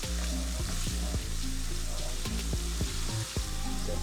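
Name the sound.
tomato puree frying in oil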